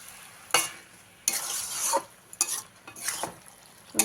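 Cooked red spinach and vegetables stirred with sugar in a pan: four separate scraping, sizzling bursts of a spoon working the pan, with quiet gaps between strokes.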